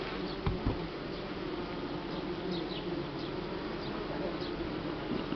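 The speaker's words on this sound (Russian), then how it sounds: "Сейчас я тихенько загоню этих пчелок." Honeybees swarm at a hive during queen introduction, giving a dense, steady buzz close to the listener for the whole stretch, with a couple of faint knocks near the start.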